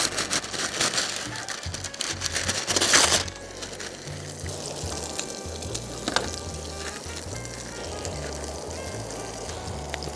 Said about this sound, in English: This is going to start rendering down so much fat that it's gonna pop